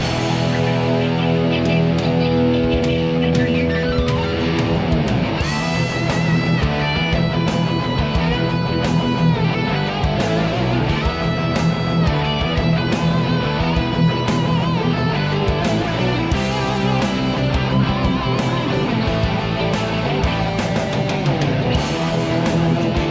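Dense, wide wall of distorted electric guitars, several tracks panned left and right, playing continuously, layered and loud, filling the whole mix without any voices.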